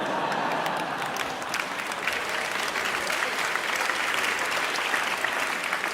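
Theatre audience applauding a card trick by a magician, loud dense clapping that runs steadily throughout and swells slightly toward the end.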